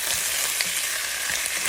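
Chicken pieces fry in a pan with a steady, close hiss and crackle of hot oil, with no voices.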